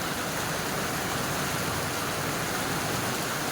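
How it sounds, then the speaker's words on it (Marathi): A heavy monsoon downpour pours over Virar, a dense, steady wash of rain with no pauses and no voices. "विरायमध्ये पडत आहे मुसळधार पाऊस"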